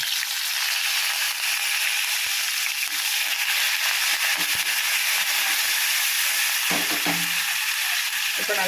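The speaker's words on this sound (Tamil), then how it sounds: "இப்போ கடுகு சீரகம் பொரிஞ்சிச்சு" Mustard seeds and cumin splutter in hot oil with curry leaves for a chutney tempering, a loud, continuous sizzle broken by sharp crackles and pops near the end.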